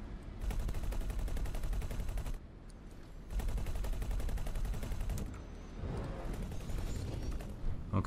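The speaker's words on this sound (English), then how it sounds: "You can see our pulse lasers going at it, firing" Pulse lasers firing continuously in the space game X4: Foundations, a dense, loud rattling barrage that runs in long sustained stretches with brief dips between them.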